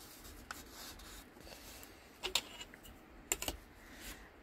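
Paper card is cut for a pop-up card, with a few quiet, crisp snips and light rubbing against a near-silent room.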